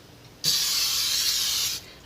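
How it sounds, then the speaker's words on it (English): One short, steady hiss of butter-flavored aerosol cooking spray onto dough balls, lasting just over a second, close by. "we're going to lightly spray the balls and sides with butter flavored great"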